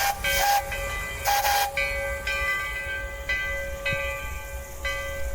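Steam locomotive number 1180, built in 1882, standing under steam on a 2.5-foot narrow gauge railway in Cuba, giving a steady loud hiss with a few sharp bursts of steam release.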